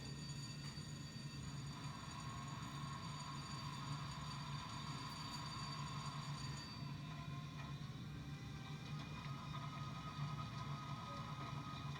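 A Roco Z21-controlled model train decoder plays a steady, low diesel engine rumble for the whole stretch, even and moderately quiet with no talk.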